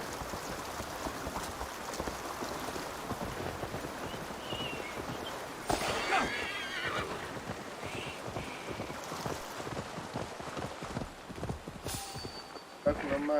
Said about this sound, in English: The horsey stopped.